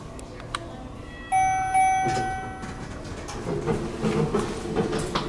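A bell on a Schindler hydraulic tunnel and parking elevator gives a single clear ding that rings out and fades over about a second, heard against a steady background hum in the Beck Building of the Museum of Fine Arts.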